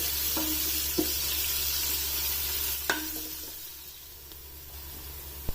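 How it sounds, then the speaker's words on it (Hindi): Onions frying in oil for kabuli pulao, a steady close sizzle with a few sharp clinks of a spoon stirring against the pan, no voices. "अब इस प्याज को इसमें लाइट गोल्डन ब्राउन कलर होने तक फ्राई होने देना है।"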